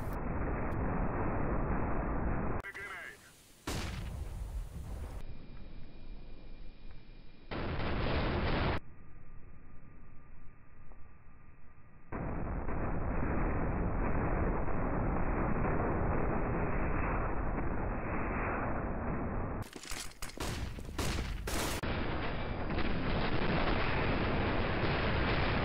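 Slowed-down gunfire from the video game CS:GO, a fragger shooting while moving, comes as heavy drawn-out booming blasts in a dense, loud stretch with abrupt cuts between segments.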